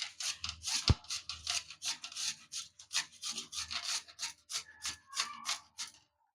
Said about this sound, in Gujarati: તો હવે આપણે આ બીટને ખમણી લેશું